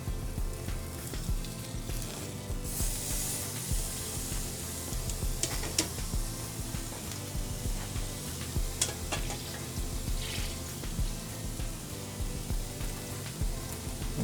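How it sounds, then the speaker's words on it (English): A ribeye steak sizzles steadily on a hot grill, a close, continuous crackling hiss with occasional sharper pops, and no talking. "We're going to turn our ribeye a quarter turn, see if we can get some good grill marks on here."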